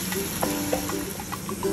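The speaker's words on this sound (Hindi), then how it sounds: "जितनी देर टमाटर भुन रहे हैं" Tomatoes cook with half a cup of water over a medium flame in a pot for chicken pulao, giving a soft, steady close sizzle with faint bubbling pops and no talking.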